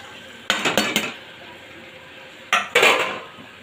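Fried potatoes tipped into a pot of mutton being browned in its spices and stock, with a quick burst of metal spoon and pot clatter, a pause, then a second louder scrape and clatter.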